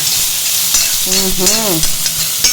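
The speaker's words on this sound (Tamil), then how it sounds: "இந்த கொத்தமல்லி வேறு, இந்த கொஞ்சம் நல்லா வறுக்கணும்." Coriander seeds dry-roasting and being stirred in a pan for a green chutney give a steady scratchy sizzle with a brief tonal squeal partway through, close and continuous with no talking.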